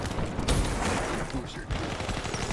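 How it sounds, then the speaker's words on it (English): Rapid gunfire bursts from a Black Ops 3 match as a player shoots a robot, dense crackling shots amid game noise, with a voice talking over the action. "all this person right here is doing is shooting a robot"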